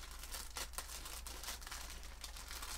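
Thin plastic packaging of silicone molds crinkles and tears as it is cut open, a steady close rustle with a few sharper rips, no talking.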